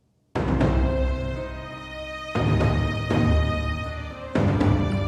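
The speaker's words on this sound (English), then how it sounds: "Makes the drums feel more like a big battery of drums." A booming drum track with the low end cut and saturation added, producing big, ringing hits that land at uneven intervals like a battery of drums, each one sustaining into the next, loud and alone.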